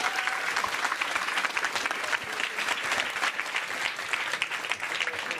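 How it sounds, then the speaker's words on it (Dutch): A crowd claps steadily and continuously, a dense wash of hand claps that stays even in loudness throughout. "Applaus"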